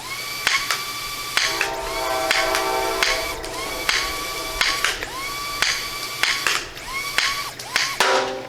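Small foam-dart blaster with a motor, fired in rapid bursts: each shot a sharp snap followed by a rising whine as the motor revs, repeated about a dozen times in an uneven rhythm, close and loud with no talking.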